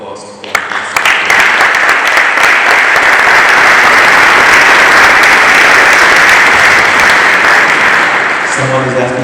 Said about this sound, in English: can I ask you for a round of applause?